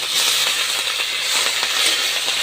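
Panch phoron, bay leaf, dried red chillies, ginger paste and chopped green chilli frying in hot oil for a mocha ghonto with ilish fish head; steady close hissing sizzle with irregular crackling pops throughout, no talking.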